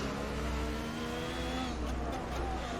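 Racing car engines from an F1 video game, a Ferrari and a McLaren, hold a steady, loud droning whine throughout, with layered engine tones close together and no pause.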